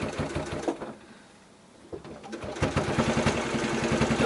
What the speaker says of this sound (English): I will put my needle down and I will go backwards here first.